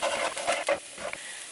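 Onions and jalapenos sauté in a pan, a short burst of soft sizzling with stirring scrapes and light patters.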